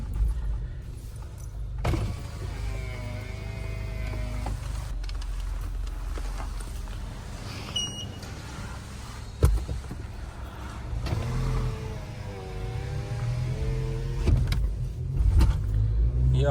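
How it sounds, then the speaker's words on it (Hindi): A car is driven and parked in Dubai, with a low, close engine rumble and road noise running throughout, a few clunks and shifts as it slows, and no talk. "और जो है गाड़ी पार्क करेंगे अब"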